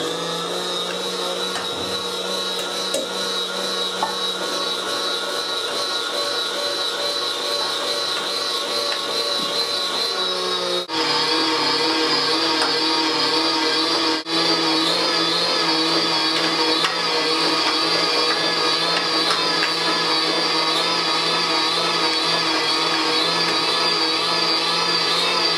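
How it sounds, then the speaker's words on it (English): Electric meat grinder churning through pork belly, lean diced pork and beef, a loud steady motor whine with a sharp shift in pitch and load around the midpoint, running continuously without talk. "Put it to the grinder."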